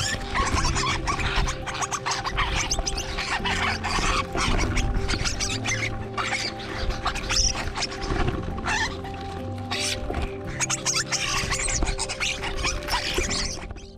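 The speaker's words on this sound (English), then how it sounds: "The noise you hear is being made by about 70 or so starlings." A flock of about 70 starlings squabbling, mostly on the ground, giving a dense, continuous chatter of harsh calls, clicks and whistles close by with no talk.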